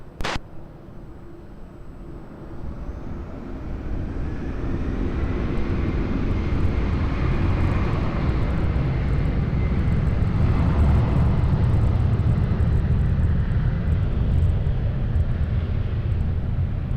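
Jet airliner taking off from runway 20 at Lisbon Airport, its engine roar building from a moderate rumble to a loud, sustained broadband thunder that holds steady, with no talk.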